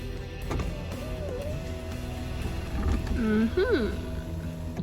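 A car's power window motor hums steadily inside the cabin, with rising and falling mechanical whines toward the end and a low engine rumble underneath.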